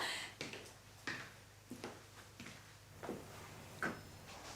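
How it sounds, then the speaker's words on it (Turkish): A door lock is turned, giving a series of faint, close mechanical clicks and light knocks spaced irregularly in a quiet room. "Kapıyı kilitledim."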